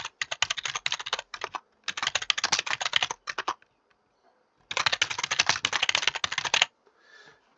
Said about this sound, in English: Apologies for the clacking.